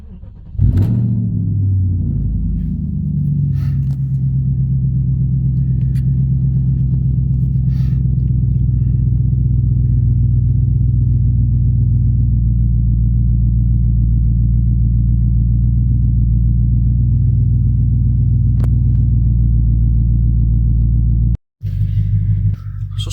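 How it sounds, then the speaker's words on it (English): BMW E60 car engine cranks and catches, then settles into a loud, steady low idle rumble that holds for about twenty seconds before a brief dropout near the end, heard close with no talking. "I'm going to start the engine."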